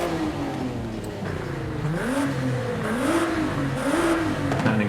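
A Nissan Z in Forza Horizon 5 revs its engine and upgraded exhaust over and over, each rev rising and falling in a clear repeating pattern over a steady idle drone.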